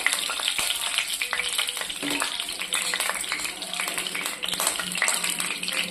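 Mustard seeds and cumin fry in hot oil for a festival meal, a dense, loud, continuous sizzle with rapid crackling pops close by.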